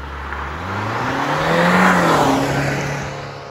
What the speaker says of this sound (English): the engine is running in the background